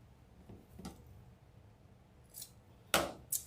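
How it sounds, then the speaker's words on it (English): Scissors cutting tulle for a deco mesh wreath, a few faint soft snips followed by two sharper crisp cuts near the end, close and quiet with no talk. "I'm going to cut my tulle so it fluffs open"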